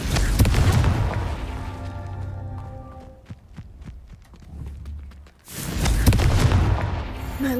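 Confringo spell explosions in the video game Hogwarts Legacy: loud booming blasts with rumbling low end, a burst at the start, a quieter stretch of crackling impacts, then another heavy explosive roar.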